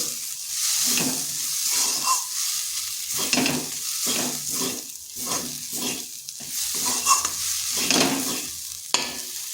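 Potatoes being stirred in a pan with cumin and chilli powder, a steady scraping stir over a soft sizzle, with repeated strokes close by and no talking.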